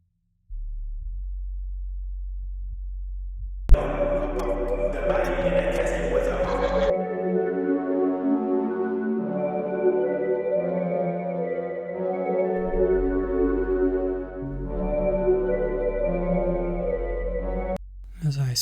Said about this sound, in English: I'm just going to spread out this sub using a bit of hyper and reverb.